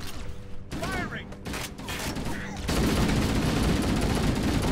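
Sustained automatic weapon fire in Halo: Combat Evolved, a dense loud barrage that grows heavier and more continuous partway through, with game effects and brief chatter mixed in.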